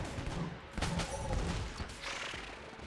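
Rapid gunfire from the video game Enter the Gungeon, a dense burst of quick shots and small impacts over game background sound, steady and moderately loud.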